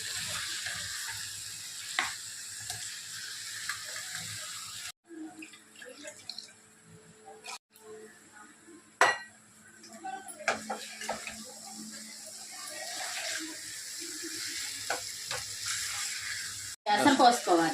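Chicken curry with chilli powder and salt is stirred in a pan, scraping and sizzling softly on and off, with a few clinks and a brief splash, under a faint hiss; no clear talk.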